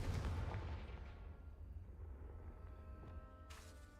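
Confringo spell blast in Hogwarts Legacy, a loud booming burst at the start that rumbles and decays over a few seconds, followed by a lingering low roar and a faint later crackle.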